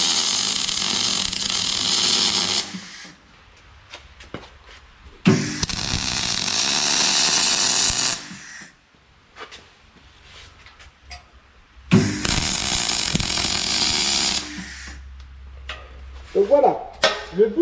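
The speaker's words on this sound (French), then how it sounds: "on commence à souder, on pointe tout ça" Tack-welding holes in a car part for a BMW E92 build, with loud bursts of crackling welding arc in three long runs separated by quiet gaps and brief clanks; no talk over the welds.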